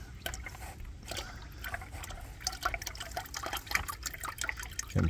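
Transmission fluid drains from a 2004–2006 Lexus ES330 in a steady, close trickle with scattered drips and splashes, ending in a brief louder clunk.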